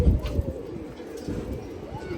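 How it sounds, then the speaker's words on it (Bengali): Aluminium pigeons, two males, coo softly in a cage on a farm, a few low throaty calls close by amid background chatter and faint bird sounds. "মাশাল্লাহ, অ্যালুমিনিয়াম কবুতর।"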